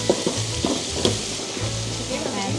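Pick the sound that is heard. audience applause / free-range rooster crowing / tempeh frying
tempeh frying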